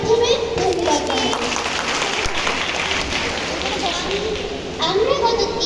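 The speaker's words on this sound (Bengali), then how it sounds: "সকলে আমরা তার জন্য জোরে করতালির মাধ্যমে ধন্যবাদ জানাই।" An audience at a children's music and dance workshop event applauds loudly, a dense patter of clapping held for several seconds, with children's voices mixed in.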